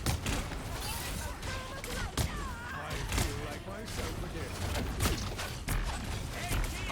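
Magneto fires repeated shots over an enemy shield in a competitive hero shooter, a dense run of metallic mechanical bursts and creaking impacts at steady intensity amid constant game effects.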